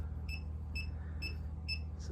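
Electrical outlet tester beeping as it is moved slowly along a wall outlet: four short, evenly spaced high beeps, fairly clear over a steady low hum.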